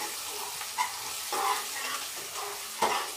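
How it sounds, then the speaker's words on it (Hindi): Onions and green chilli roast in a pan with a steady sizzle, while a spoon scrapes and stirs in several distinct strokes over the continuous frying hiss. "अब इसको और भूनना है, भूनना है, भूनते जाओ भूनते जाओ।"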